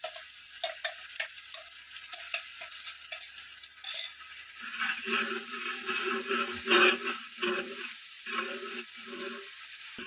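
Onion being sautéed with ginger, garlic and green chili paste: a soft sizzle rises midway, accompanied by intermittent stirring and scraping close by, over a faint ticking background without talking.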